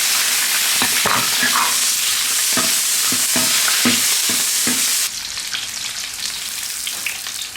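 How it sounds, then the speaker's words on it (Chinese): Scallion, ginger, garlic, chili, star anise and bay leaf stir-fried in hot oil before cooking fish: a steady loud sizzle with rhythmic spatula scrapes and clacks for about five seconds, then the sizzle continues alone. "葱、姜、蒜、辣椒、八角、香叶放进去，先炒一下子"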